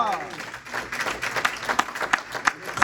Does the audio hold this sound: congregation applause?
yes